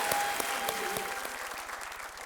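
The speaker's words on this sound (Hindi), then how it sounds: "यहाँ की जनता जो है तालियों के साथ आपका अभिनंदन कर रही है" A studio audience at the Kaun Banega Crorepati game show breaks into steady, close applause for a contestant, a dense patter of many hands holding evenly for the whole stretch with no voices over it.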